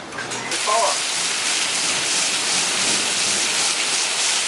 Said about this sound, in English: It's bad, big hail. There's hail out there.